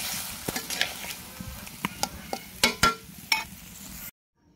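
Boal fish curry with cauliflower, potato and onion fries on a stove, a steady sizzle punctuated by several sharp stirring clacks before the sound cuts off abruptly.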